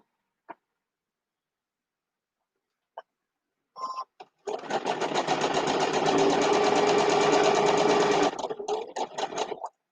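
A sewing machine stitches a row of a quilt block, starting after a few faint clicks and then running steadily for about four seconds with a fast, buzzing mechanical hum before slowing and stopping; close and alone, without talk.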